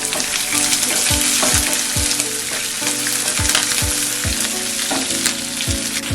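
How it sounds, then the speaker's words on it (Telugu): Onion pieces frying in a tempering heavy with chana dal for a beetroot fry; a loud, close crackling sizzle fills the clip, with regular rhythmic spatula strokes scraping the pan about every half second. "ఉల్లిపాయ ముక్క వేస్తున్నా."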